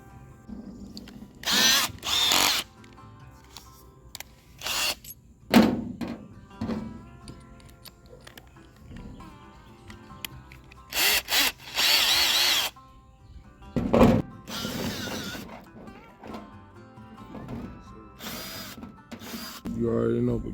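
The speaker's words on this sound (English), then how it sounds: "bigger means I have to drill less holes" A power drill whirs in several short bursts drilling holes in a tall planter, stopping and starting with quiet pauses between, with faint background sounds in the gaps.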